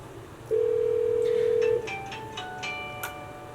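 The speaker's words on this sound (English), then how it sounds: "As we dial the number, notice that the phone has memory" A business desk phone on an eSIP system gives a loud, steady dial tone for over a second, then a quick series of short keypad beeps as a number is dialed.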